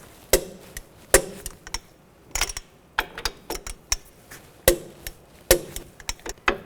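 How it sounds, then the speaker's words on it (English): Torque wrench tightening strut nuts on a 2005-2010 Chevy Cobalt front suspension, giving a series of sharp clicks and ratcheting knocks in uneven bursts, close and without talk. "Now I'm going to torque these nuts to 89 foot-pounds."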